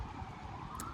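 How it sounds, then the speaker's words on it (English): Ambulance sirens pass by outdoors, heard faintly from indoors as a distant, steady wailing tone over quiet background hum. "I hear ambulances coming by"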